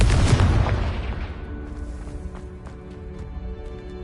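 The Confringo fire spell explodes in Hogwarts Legacy, a heavy booming blast that opens loud and then decays over several seconds into a rumbling tail with faint game sounds after it.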